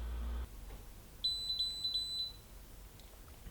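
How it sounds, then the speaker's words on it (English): A Vuze XR 5.7K 360 camera gives a quick run of about four short, high electronic beeps, clear and close against a quiet room. "It does have a tendency to beep a lot."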